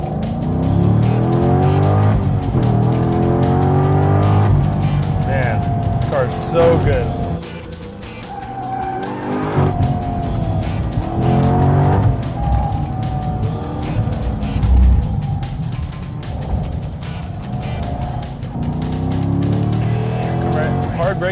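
A 2008 Corvette LS3 race car lapping a course, its engine loud and close throughout, surging under hard acceleration and dropping off in braking zones, with faint tire squeal and someone talking over it.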